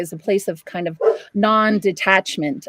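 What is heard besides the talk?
dog barking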